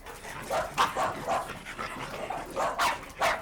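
Several dogs bark repeatedly at a household that keeps more than forty dogs, the sharp barks coming in an irregular series at moderate distance with no talking over them.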